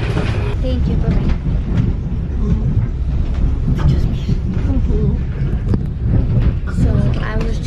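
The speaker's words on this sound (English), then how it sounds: "We are on a train." Loud, steady rumble of a moving train with rattling and wind buffeting; a voice talks under the noise.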